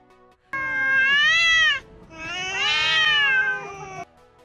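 Two long, loud meows from a cat at a dog, one after another with a brief pause between, close by and with no other sounds.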